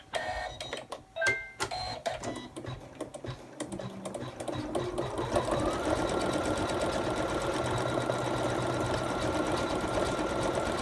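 An embroidery sewing machine stitching out lettering for a pencil case, opening with scattered clicks and mechanical knocks, then settling into a steady, rapid, continuous whirring stitch rhythm.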